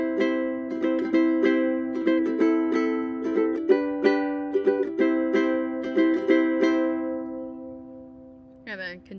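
Ukulele playing a chord progression with an island strum pattern, a steady run of bright rhythmic strums with a short pause near the end, played close and alone.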